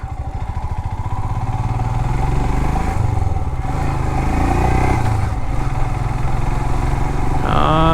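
A Royal Enfield Himalayan BS6 test-ride motorcycle rumbles steadily along an unpaved dirt road, its single-cylinder engine thumping loud and close for several seconds with a slight rise in pitch midway and no talking.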